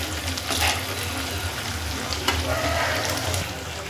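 Sabudana vadas, sago fritters, sizzle in hot oil with a steady soft crackle and occasional brief louder bursts, close and moderate in level, with no talking.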